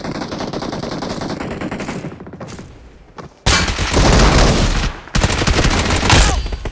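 Rapid automatic gunfire rattles in the BGMI battle royale mobile game. Loud bursts of fire are broken by a short lull and then resume with sustained heavy volleys.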